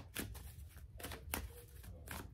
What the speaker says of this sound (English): All right, I'm gonna shuffle